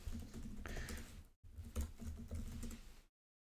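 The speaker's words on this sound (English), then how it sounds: "write some code" Rapid, steady typing on a computer keyboard while writing code, dense clattering keystrokes running continuously with one brief pause, close and fairly quiet, with no talking.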